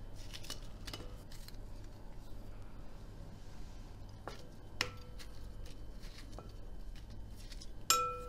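Mushrooms being coarsely chopped with a knife on a board, several sharp separate cuts and clinks spaced irregularly over a quiet kitchen background, close and fairly faint.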